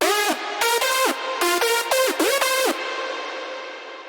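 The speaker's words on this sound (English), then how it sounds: "the lead on its own, with all the layers active, sounds like this" A four-layer hardstyle synth lead built in FL Studio, played alone with reverb: a run of loud, bright stabs with pitch-bending swoops, ending in a long reverb tail that fades out.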